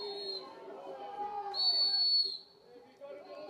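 A referee's shrill whistle at a Federation League football match between Taradale and Gisborne Thistle sounds in two long blasts, the second louder and sustained, over a distant crowd murmur and a commentator's voice.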